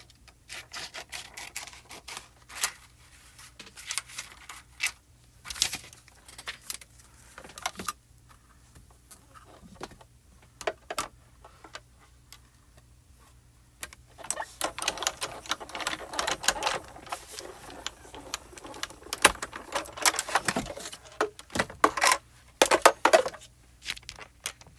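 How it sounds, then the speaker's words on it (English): A Spellbinders die-cutting machine presses a small piece of vellum on a base cutting plate, giving bursts of irregular clicking and mechanical clatter that stop and start, busiest toward the end, with no talking. "we're going to cut a little piece of vellum"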